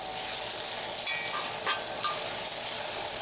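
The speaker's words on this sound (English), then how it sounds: "We cook some bacon to produce bacon grease for flavoring the vegetables." Bacon sizzles and spits in a hot wok, a steady, dense frying hiss that fills the whole stretch, with faint scraping or stirring touches partway through and no talk.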